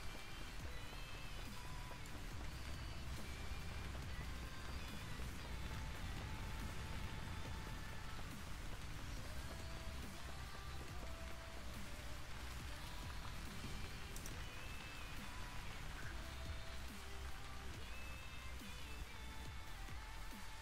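Rain pours without pause in Vintage Story, a constant hiss of drops striking the ground, loud and even the whole time, with no voices over it.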